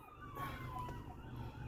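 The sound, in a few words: ambulance siren sound effect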